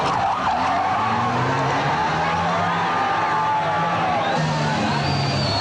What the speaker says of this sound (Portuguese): As manobras mais aplaudidas pela plateia são o 360 graus, um cavalo de pau, no qual o carro volta à posição inicial.